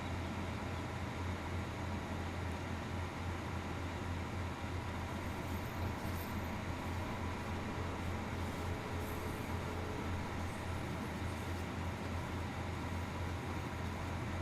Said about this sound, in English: Sound of the train moving.